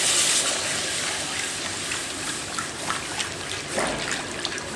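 Milk pours gradually into a cooking pot with a steady liquid trickle and splash, close and moderately loud, swelling slightly at moments.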